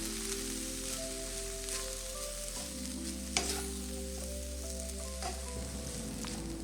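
Quinoa and white rice are stir-fried in a pan for egg fried rice, giving a steady soft sizzle with faint scraping stirs, continuous and close with no talk.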